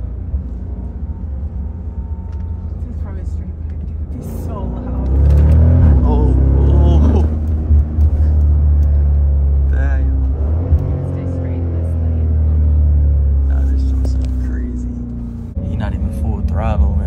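A Dodge widebody Scat Pack on a test drive, its engine rumbling low and loud from inside the cabin, swelling on throttle and falling back through downshifts, while people talk throughout.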